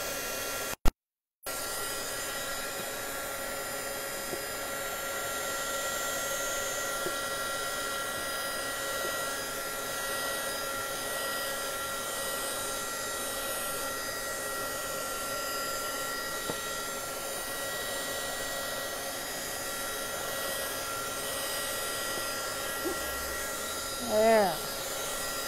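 A handheld dryer blows over chalk paint on paper, making a steady whirring hum that runs continuously after a brief click on, with a faint voice near the end.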